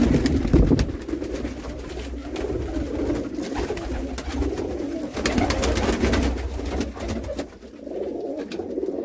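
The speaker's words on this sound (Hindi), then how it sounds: "गोल्डन कबूतर देखें जी क्या नस्ल है माशाल्लाह खूबसूरत बहुत बेहतरीन" Rampuri golden pigeons coo in low, soft, repeated murmurs against a steady background hum, with a few brief louder bursts mixed in.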